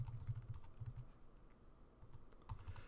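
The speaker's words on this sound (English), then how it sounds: "So we'll type in local_w=display.contentWidth to capture the width of the screen." Code is typed on a computer keyboard in quiet, quick clusters of key clicks with short pauses between them, recorded close and faint.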